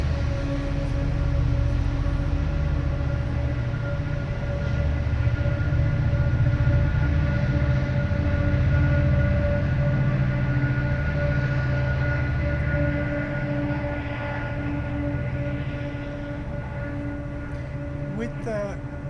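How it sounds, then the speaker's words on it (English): Steady low rumble of trains passing near a mosque, with a faint horn-like tone, continuing throughout beneath a voice speaking. "you're hearing a lot of trains in the background"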